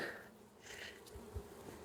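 Faint buzzing of honey bees hums quietly in the background, with a few soft louder passes drifting by.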